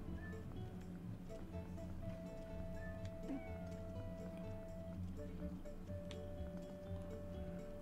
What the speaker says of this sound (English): Look at all these kitties.